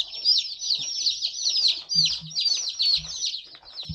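Many young hatchery chicks peep continuously and shrilly up close in an opened shipping box, with a few brief low voices talking now and then.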